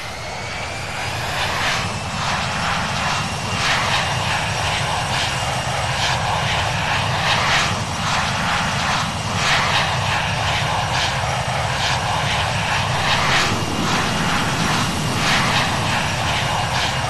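Loud, sustained engine drone from a Boeing 777-300ER taxiing toward the runway in the Infinite Flight video game, with regularly recurring swells and surges layered over the constant roar and no voices.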